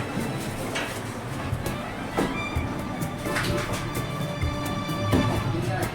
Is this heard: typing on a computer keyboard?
no